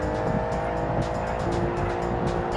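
A custom tuner car in the video game Automation accelerates with a steady, buzzing engine tone that holds near and loud across the whole stretch, no speech over it.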